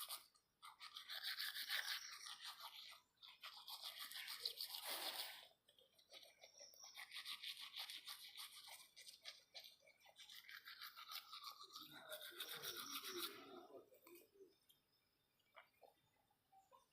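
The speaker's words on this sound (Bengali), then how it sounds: "ব্রাশ করা কমপ্লিট হচ্ছে না।" A toothbrush scrubs teeth up close in several quiet, rhythmic bursts of brushing, with short pauses between strokes.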